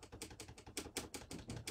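Rubber stamp pressed down onto cardstock during a card-making session, giving a quick series of about eight sharp, close taps at a steady rhythm, with no talk.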